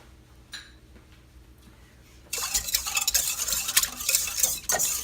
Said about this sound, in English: I'm going to add 3 teaspoons of yeast. And I used instant yeast. And mix that.